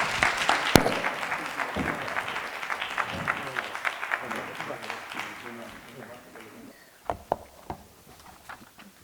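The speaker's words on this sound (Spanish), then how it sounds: "Eso yo creo que se merecen un aplauso" An audience at a pre-university debate league competition gives a round of applause that starts strong and thins out, leaving scattered individual claps near the end. A few voices can be heard talking during the clapping.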